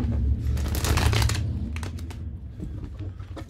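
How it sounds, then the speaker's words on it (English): Close papery riffling and soft slaps as a deck of tarot cards is shuffled, one busy burst fading into a few lighter flicks. "One more shuffle."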